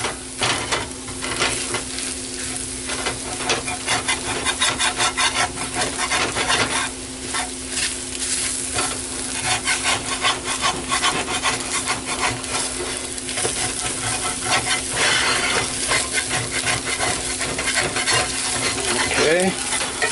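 A roux cooks in a pan for creamed chipped beef, a continuous sizzle with repeated scraping and stirring strokes, close and fairly loud, with a steady hum underneath.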